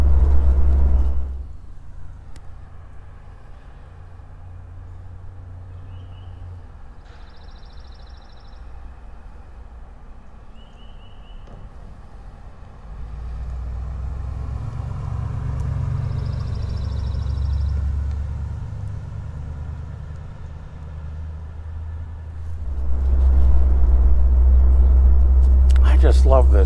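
A low-mileage 1956 Ford Thunderbird runs while driving, its engine a steady low rumble that swells as it accelerates, under people talking inside the car.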